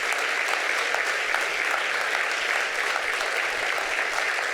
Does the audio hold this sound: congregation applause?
yes